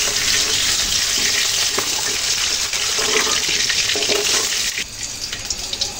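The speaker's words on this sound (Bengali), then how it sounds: "ভাটা মাছগুলো 5 মিনিট সময় নিয়ে ভেজে নিলাম" Bata fish frying in hot oil in a pan, a steady dense sizzle with crackle that runs loud and close throughout, easing slightly near the end.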